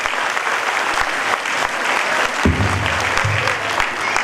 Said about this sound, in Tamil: அந்த ஆசிரியர்களுக்கு ஒரு அரங்கம் நிறைந்த கைத்தட்டலை நாம் பரிசாக கொடுக்கிறோம்.